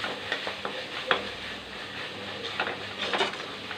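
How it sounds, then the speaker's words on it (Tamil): Onion and tomato sautéing in an Italian-style kadai used for egg gravy, a soft sizzle broken by intermittent scraping stirs and light clinks, close but fairly quiet, no speech. "இந்த வெங்காயம் தக்காளி வதக்கிறது பாத்திரத்துலேயும் நிறைய வித்தியாசம் தருது"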